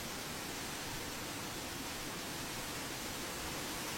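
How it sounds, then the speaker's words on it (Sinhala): A waterfall roars as a steady, dense, hissing rush of water. The sound is even and unbroken for the whole stretch, with no voices. "ඒ මේ ඇල්ල තමයි."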